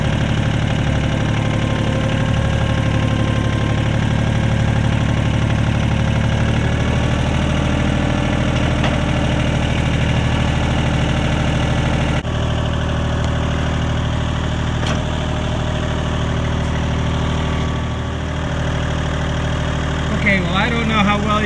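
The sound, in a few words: tractor engine idling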